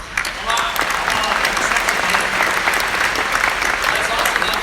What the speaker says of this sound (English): I think everyone in this room deserves a big round of applause